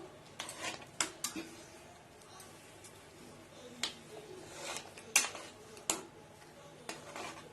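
Spoon stirring rajma dal with potatoes in a pot, several sharp irregular clinks and scrapes of metal against the vessel over a quiet background.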